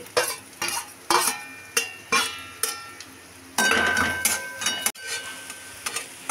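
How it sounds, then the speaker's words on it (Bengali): Onions fry in a pan with a steady sizzle while a metal spatula scrapes and clinks against it in sharp, regular strokes, close and clear without talk. "এবার মা পেঁয়াজগুলো ভেজে নিচ্ছে।"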